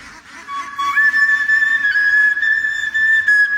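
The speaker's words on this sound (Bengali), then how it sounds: "তার বাঁশির সুরে পিছে পিছে ছুটে যায় হাজার হাজার হাঁস" A herder's bamboo flute plays a high, sustained note that shifts slightly in pitch, clear and close with no talking, calling a flock of ducks.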